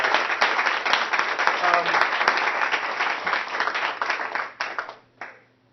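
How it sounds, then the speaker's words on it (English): Audience applause at a live Q&A event, a dense wash of many hands clapping that holds steady for several seconds and then tapers away quickly, with a voice faintly underneath. "a round of applause for Bill."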